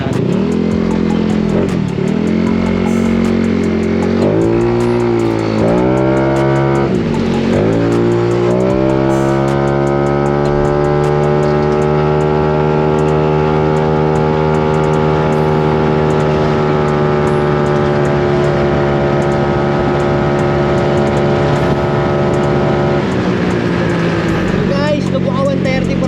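A Mio i 160cc scooter fitted with an Aracer RC Mini 5 tuning unit revs repeatedly, rising and falling, then holds a long steady high-rev tone before dropping back, with voices talking over it.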